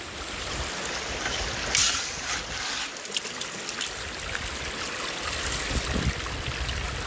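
Steady rushing water runs through a gold sluice box set in a small stream, a continuous broadband wash with brief splashes and trickles as the flow picks up.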